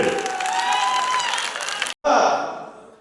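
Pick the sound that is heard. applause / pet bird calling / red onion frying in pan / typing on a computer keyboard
applause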